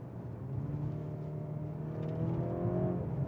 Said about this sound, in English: that's predictably slow Mercedes gearbox, isn't it?